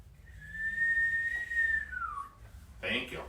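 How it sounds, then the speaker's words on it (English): A person whistles one long, steady, sustained note that slides downward at its end, heard fairly close and alone, followed by a brief higher chirp. "It helps when I whistle."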